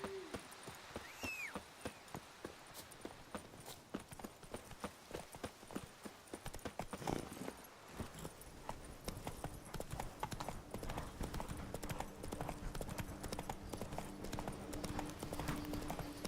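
Geralt's horse Roach trots along in The Witcher 3, hooves clip-clopping in an unbroken rhythmic beat, with a short spoken line near the start and game ambience underneath.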